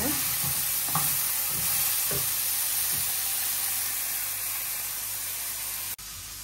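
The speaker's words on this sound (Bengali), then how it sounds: "এখানে যে সবজিটাও আলু পটলটাও ভেজে নেই একটু, না ভেজা দিলে ভালো লাগবে না।" Potato and pointed gourd frying and being stirred in a pan, a steady close sizzle and hiss with a few scraping stir strokes early on, running alone until it drops off abruptly near the end.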